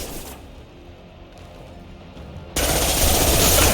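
Loud, sustained submachine-gun fire from an SMG in the video game Mass Effect, a dense roaring burst that cuts in abruptly near the end after quieter game ambience and scattered shots.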